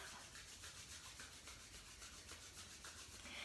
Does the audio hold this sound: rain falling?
no